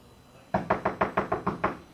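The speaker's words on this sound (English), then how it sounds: "We're gonna go back to Robert with the regular door knock" A regular knock on a door, seven even raps in a steady rhythm, close and crisp with nothing else heard.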